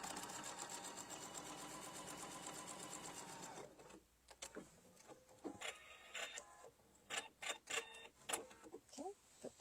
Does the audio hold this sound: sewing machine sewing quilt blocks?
yes